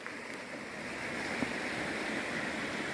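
A clear river in a rural Sumatran village flows with a steady, broad rushing wash, close and continuous, with no voices over it.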